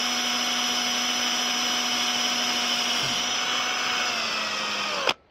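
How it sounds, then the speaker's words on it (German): A power drill bores into the entry door of a motorhome with a loud, steady motor whine that runs unbroken for about five seconds, then cuts off abruptly; no speech. "Jetzt geht das Bohren los."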